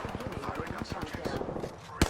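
Rapid video game gunfire in a ranked shooter match, a run of sharp repeated shots at a steady rhythm in the background with a louder close burst near the end, under faint game voice talk.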